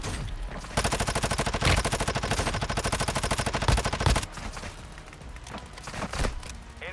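Rapid automatic gunfire in Warzone Mobile: loud, closely spaced bursts of shots that run for several seconds, break off abruptly, then give way to quieter scattered shots and rumble. No voices.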